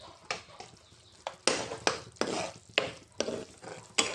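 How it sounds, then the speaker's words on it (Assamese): An egg curry with turmeric being stirred in a pan, rhythmic scraping strokes of a spoon about every half second over a faint sizzle. "ভালকৈ লৰাই লৈছোঁ।"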